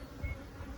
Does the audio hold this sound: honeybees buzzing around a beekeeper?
yes